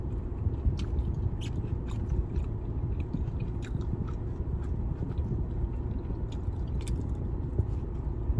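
Sushi with cream cheese being bitten and chewed in a parked car, close wet chewing with soft crunches over a steady low rumble of car background noise.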